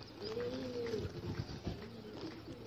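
Caged pigeons coo and shuffle nearby in a low, steady murmur, with soft overlapping calls and faint movement noise throughout.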